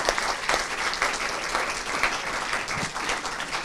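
An audience applauds three speakers at the close of an evening panel event, a steady, dense clapping that fills the room at full volume and continues without a break.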